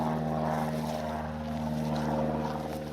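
A propeller airplane drones steadily overhead during an outdoor walk, a continuous low engine hum with stable tones that holds at moderate volume for the whole stretch without any voices.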